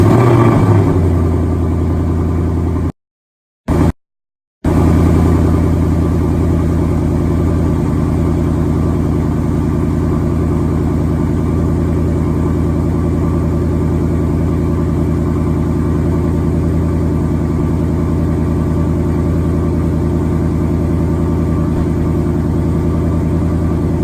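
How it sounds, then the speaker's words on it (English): 2019 Ford Mustang GT on its factory exhaust at cold start, a loud, steady V8 idle with a deep rumble that runs close and unbroken, apart from a brief dropout near the start. "I'm going to do a factory exhaust cold start here."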